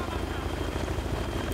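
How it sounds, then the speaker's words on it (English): A helicopter in the video game Battlefield 3 makes a steady rotor and turbine drone with a faint rhythmic chop, fairly quiet and continuous for the whole stretch, with a voice speaking over it. "Is that a friendly helicopter or is it a bad boys helicopter?"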